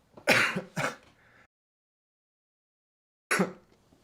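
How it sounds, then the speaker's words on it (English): Three sharp coughs, two close together and a third after a long silence, loud and near with no talking. "I'm gonna try to mute myself when I have to cough like that."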